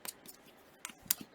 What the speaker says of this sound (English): Cutting the selvage.